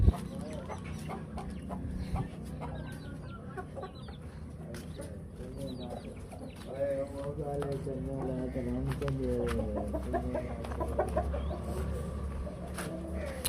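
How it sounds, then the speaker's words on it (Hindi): Aseel chickens and roosters cluck and call continuously in pens on a farm, with a steady background hum and pigeon-like cooing mixed in, while people talk nearby. "माशाल्लाह बहुत अच्छी मुर्गियां हैं"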